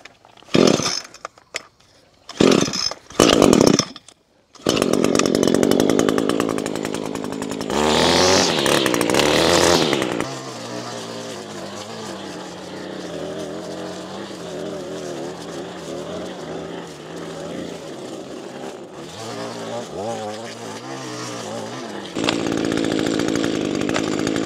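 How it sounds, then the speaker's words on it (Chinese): A handheld string trimmer with plastic line cuts weeds and grass near a corn field, its steady buzzing whine running loud and continuous for most of the stretch after a few choppy bursts at the start. "拿上这手持割草设备"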